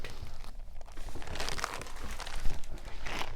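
A clear plastic bag holding zippers crinkles and rustles up close, with irregular crackling handling sounds throughout.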